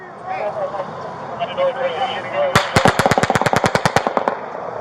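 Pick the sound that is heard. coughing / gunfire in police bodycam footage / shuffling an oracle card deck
gunfire in police bodycam footage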